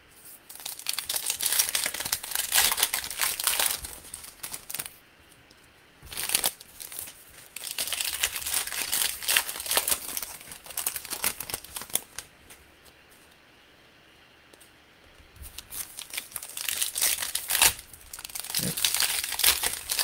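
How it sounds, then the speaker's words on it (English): Prizm NFL trading card packs are torn open and their cards shuffled. Bursts of crinkling foil wrapper and rustling cards come up close, separated by short quiet pauses, with no talk. "I'll open up all of the packs within each box"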